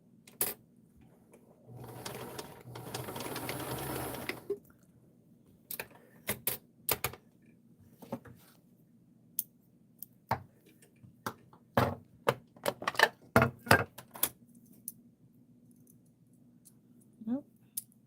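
A sewing machine stitching muslin runs in one steady whirring burst, then gives scattered clicks and short mechanical ticks while the bobbin is checked, all fairly quiet and close.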